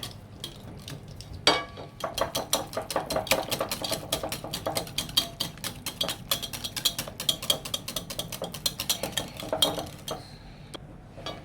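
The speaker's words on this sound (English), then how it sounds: "I prefer using my hands to beat this. So let's just mix this well." Butterscotch chip cookie batter beaten by hand in a bowl, giving a close, steady run of rapid clinking and scraping strokes that keeps going for several seconds.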